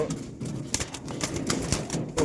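A wild pigeon flutters and thrashes inside a cage, its wings beating in quick irregular bursts of flapping, close and fairly loud.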